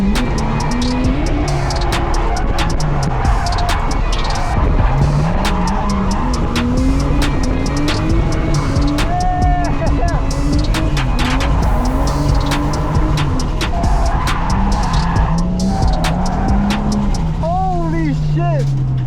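Car drifting around a track at a drift school in Australia, engine revving up and down in long sweeps with tire squeal and skidding noise throughout, loud and close, with people talking over it.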